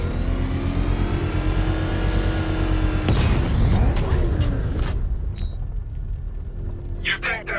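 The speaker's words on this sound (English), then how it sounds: "I can use the power winch to trigger a controlled explosion." A controlled explosion of an exposed bomb payload in Batman: Arkham Knight, a broad burst around the midpoint over a dense game soundscape of rumble and machinery, then fading into lighter effects and short clicks.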